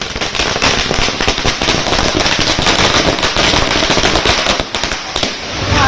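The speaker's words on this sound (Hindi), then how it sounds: "4 हफ्ते बाद शाहरुख के घर के बाहर पटाखे फूटे।" Firecrackers burst outside a house in a rapid, dense, loud string of cracks and pops, continuous and close, with no talk.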